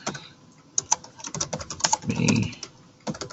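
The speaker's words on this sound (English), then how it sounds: "Forgive my typing." Quick, uneven typing on a computer keyboard close by, a burst of clicks with brief pauses and a soft low thump midway.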